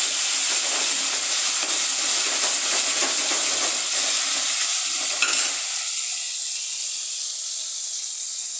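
Peas with ginger garlic paste are stirred in a frying pan over a steady hissing sizzle, with scraping strokes that fade out partway, leaving the hiss alone.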